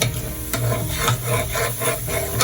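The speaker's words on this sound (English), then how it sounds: "Keep stirring" A spoon stirring egusi with crayfish and red pepper in a pot, with steady close scraping and rubbing strokes repeating about twice a second, alone without talk.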